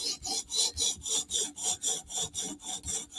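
Steady forward strokes of a titanium knife edge across a sharpening stone, about eleven even rasping passes in a regular rhythm, close and alone with no talk.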